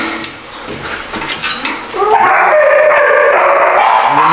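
A dog at a kennel whines in short bursts amid clattering metal, then breaks into a long, loud, sustained howl that carries through the final seconds.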